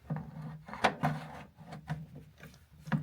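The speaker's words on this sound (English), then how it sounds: "open up the flap and slide the bag into place" A collection bag slides into place on a B&S walk-behind vacuum, with soft wooden-sounding rubbing, scraping and a few sharper knocks as the flap and bag are handled, close and fairly quiet.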